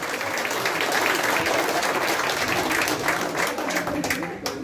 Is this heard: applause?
yes